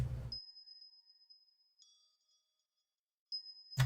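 A bell sample in a music production session rings out as a thin, bright, sustained tone with a harsh edge, struck again later, with brief louder sounds at the start and end.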